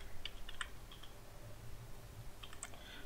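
Light, scattered clicks of typing on a computer keyboard during a coding session, coming in short bursts near the start and again toward the end over a low steady hum.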